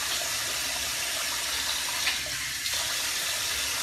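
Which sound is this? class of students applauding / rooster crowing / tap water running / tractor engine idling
tap water running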